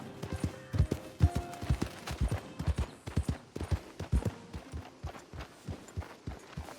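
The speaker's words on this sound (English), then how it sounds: "Get that horse out of here." Steady clip-clop of a horse's hooves from Red Dead Redemption 2, a brisk regular rhythm of close, distinct hoofbeats with no talking.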